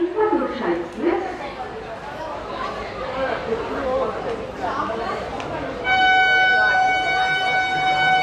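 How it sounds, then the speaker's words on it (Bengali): Teesta Torsa Express pulling out of Katwa Junction platform, with people talking and station bustle throughout, then a loud sustained multi-tone horn blast joining steady rumble in the final seconds. "আমাদের ট্রেন কাটোয়া জংশন থেকে ছেড়ে দিল"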